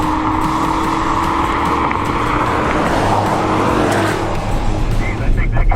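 A Toyota RAV4 Prime accelerates hard in a drag race against a V8 police car, a loud continuous engine and road roar with wind noise, while someone talks over it.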